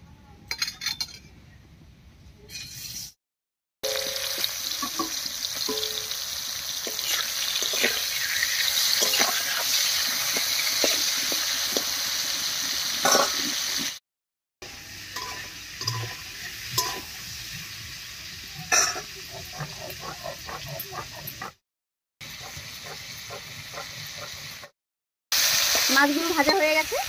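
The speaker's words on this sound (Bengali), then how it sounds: "তেলটা গরম হয়ে গেছে, এবারে মাছগুলো দিয়ে দিচ্ছি" Dried fish (shutki) fries in hot oil with a steady, bright sizzle lasting long stretches, broken by brief silent cuts and occasional clinks of a utensil against the pan, while a voice talks at times.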